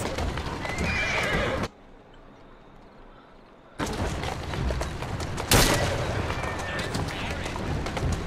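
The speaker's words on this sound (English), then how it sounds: "The carriages are just overturning and flipping over like crazy." Horse-drawn carriages overturn in Assassin's Creed Syndicate, with galloping clip-clop hooves, horse whinnies and heavy crashes, and one loud impact near the middle; a quieter gap interrupts the action partway through.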